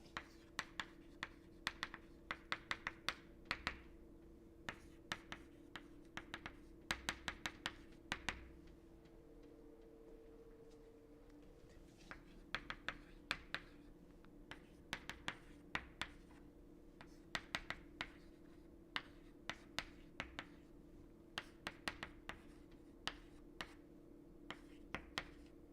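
A marker or chalk taps and scratches on a board in quick irregular bursts for about twenty-five seconds, sounding close and moderately faint over a steady low hum.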